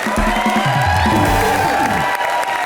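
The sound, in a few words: audience applause and cheering for Moni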